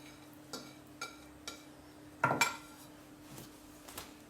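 A utensil knocks against a bowl as cod and chopped parsley are worked into dough, a faint series of separate clinks and scrapes at a slow, uneven rhythm with a short busier burst midway.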